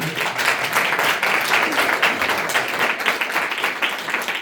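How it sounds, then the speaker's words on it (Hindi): Rapid clapping from a church congregation during a sermon, steady and fairly loud throughout. "ताली तो मारता हूं।"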